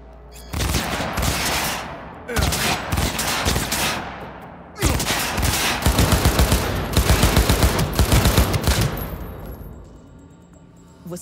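Bursts of rapid gunfire in the video game Cyberpunk 2077 erupt in several loud volleys, rattling automatic fire separated by short pauses, ending with a fading tail.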